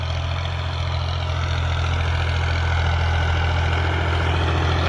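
A 2022 New Holland Ghazi 65 HP tractor engine idles in a loud, steady, close-up drone with a deep rumble and no speech.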